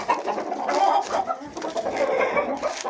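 Several chickens cluck and murmur continuously in a farmyard coop, close and fairly loud, with overlapping calls throughout.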